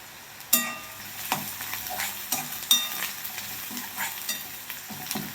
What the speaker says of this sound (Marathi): तर कांदा चांगला भाजून घ्यायचा आहे आपल्याला